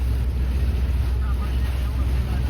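Cyclone wind lashes Bhal in Bhavnagar with a constant deep, roaring buffeting against the microphone. The rumble stays loud and close throughout.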